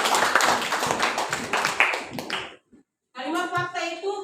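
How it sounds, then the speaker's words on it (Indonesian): Schoolchildren in a classroom clap briskly for a couple of seconds, then fall quiet before a voice speaks. "Terima kasih, sudah tepuk tangan dulu buat Yumiko dan Jenika."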